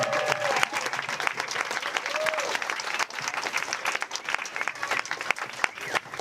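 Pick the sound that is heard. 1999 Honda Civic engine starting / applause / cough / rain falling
applause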